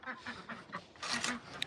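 Ducks quack in a coop shared with chickens at night, a run of soft, repeated calls followed by a louder, busier burst near the end, close to the listener.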